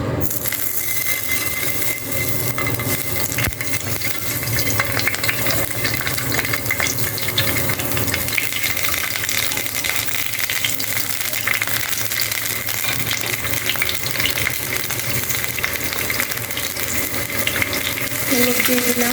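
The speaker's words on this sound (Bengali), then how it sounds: "এখন ডিম দিয়ে দেব।" Duck eggs frying in hot mustard oil in a pan, a steady loud sizzle and crackle running throughout with occasional stirring scrapes and light clinks, no voices.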